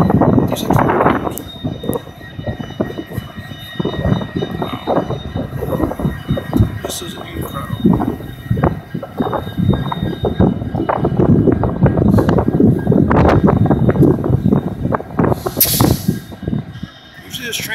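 A heavy 40-car Conrail freight train rolls past close by, with a steady rumble, rhythmic wheel clatter and occasional squeal, while a person exclaims over the noise.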